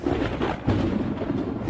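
Distant thunder rumbles low and continuously in a lion-country savanna setting at the end of the dry season, a broad, steady roll with a slight swell partway through and no voices.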